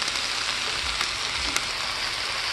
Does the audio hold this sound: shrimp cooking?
yes